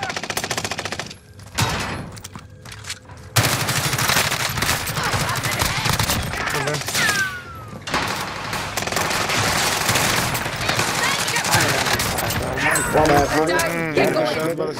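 A weapon sprayed in a first-person shooter game fires long, loud bursts of automatic fire that run almost without a break, under steady excited talk from players.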